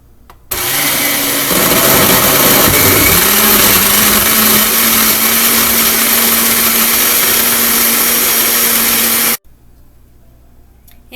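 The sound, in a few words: blender mixing strawberry orange drink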